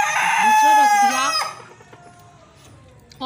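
A rooster gives one loud, close crow lasting over a second, then falls quiet with faint background sounds.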